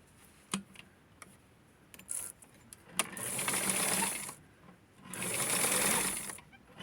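A sewing machine stitches the inseam of Barbie doll pants in two short bursts of a few seconds each, close and whirring, after some light clicks of handling.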